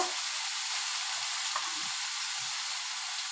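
Water spinach (kalmi greens) cooking in a frying pan gives a steady, even sizzle with faint soft stirring movements, no voices.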